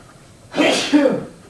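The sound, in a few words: sneeze in lecture hall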